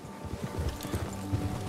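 A horse in Red Dead Redemption 2, its hooves clip-clopping in a steady walking rhythm at moderate volume under a low wind-like background, with a faint snort or whinny possible.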